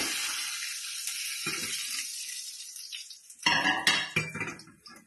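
Mustard seeds hitting hot oil for tempering a mango pulissery, a steady hiss fading down, then sharp bursts of crackling and popping near the end, close and clear with no voices.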